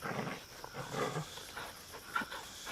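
Dogs bark in a scene from the 2024 Sinhala film MURA: several short, loud, rough barks and growls come in bursts over a noisy background, with no one speaking.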